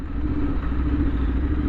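A modified Royal Enfield Interceptor 650 motorcycle accelerates in third gear, a loud, steady engine drone held close throughout a brief stretch with no voices.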